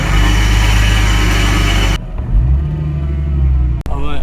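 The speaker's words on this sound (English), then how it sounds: "thank God the car started up" A supercharged 550 bhp Nissan 370Z runs loud and close, a harsh roar that cuts sharply to a lower idle burble, with a brief dropout near the end.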